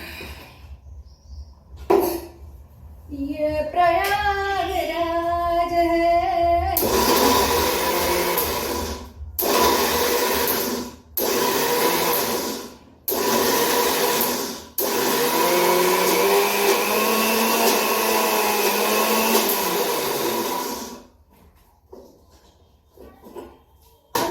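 Mixer grinder whirring through chutney in a kitchen, several loud bursts of grinding separated by short pauses, the longest run lasting about six seconds, with clattering and a whining start before the first burst; no talk.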